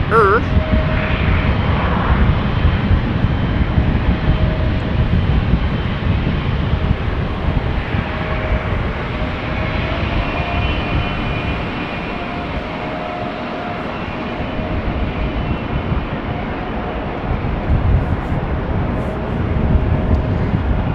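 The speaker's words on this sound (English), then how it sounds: "KLM flight 565 to Nairobi, Kenya, coming this way, 777-300" A KLM Boeing 777-300 airliner at Amsterdam Schiphol Airport gives a steady, loud jet engine roar that fills the whole stretch, swelling slightly near the end as it passes, with a voice heard faintly.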